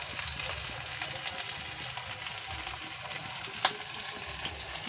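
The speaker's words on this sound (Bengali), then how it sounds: "এখানে কড়াই পেঁয়াজ দিয়ে দিয়েছে তেলে।" Onions frying in hot oil in a kadai, giving a continuous close hiss and crackle with scattered stirring scrapes and one sharp metallic click near the end; no one speaks.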